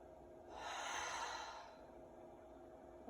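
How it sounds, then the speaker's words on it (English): During yoga, a single long, deep exhale through the mouth makes a soft, breathy rush that lasts about a second and then fades into quiet. No one speaks. "Exhale through the mouth."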